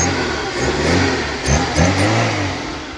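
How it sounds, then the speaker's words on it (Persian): A car being repaired after it was bought at auction roars as its engine runs, loud and close, with two rising revs that swell and fall back. No one speaks over it. "ماشین روشنه، این خوبه."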